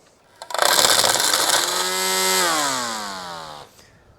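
A string trimmer fitted with twisted Hypa trimmer line revs up sharply to a loud, close, high-pitched whine, holds briefly, then spins down as the engine pitch drops and fades out.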